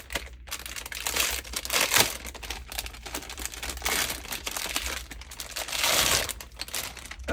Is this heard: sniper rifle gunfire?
no